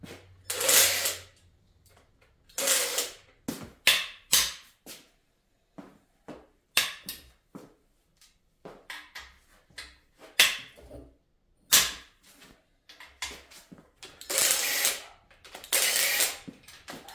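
A ratchet unbolts the main bearing caps of a Corvette LS6 engine during a teardown: quick bursts of clicking ratcheting separated by pauses, with small metallic clinks and handling sounds between, close and fairly quiet.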